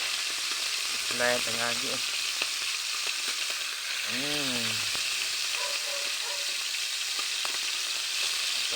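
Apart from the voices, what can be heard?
pork liver frying in hot cooking oil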